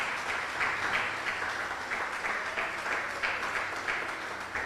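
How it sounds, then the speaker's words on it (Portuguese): A church congregation claps in praise, a fairly faint, steady wash of applause with a loosely pulsing rhythm that continues evenly throughout. "aplauda o Senhor"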